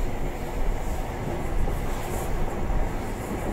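Onboard a Grand Central passenger train, a freight train passes alongside as a loud, continuous, dense rumble and roar of wagons rushing by close to the window.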